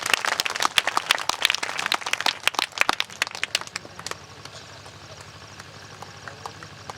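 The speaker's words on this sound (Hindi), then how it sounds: "थोड़ा ताली बजा देंगे आप लोग।" Audience applause at a Hindi public talk on superstition, a dense burst of many hands clapping loudly for about four seconds, then thinning into scattered claps that fade out.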